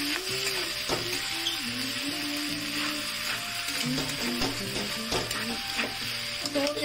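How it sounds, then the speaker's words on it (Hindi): Sago pearls (sabudana) fry in a pan at home, giving a steady sizzle with stirring scrapes and clinks; a voice hums faintly underneath. "मैंने डाल दिया है साबूदाना को और इसको अच्छे से फ्राई करूँगी।"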